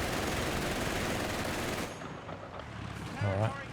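Base machine gun fire in the Company of Heroes 3 video game, a dense continuous rattle of rapid shots for about two seconds that then thins into scattered bursts, with a voice talking faintly at the end.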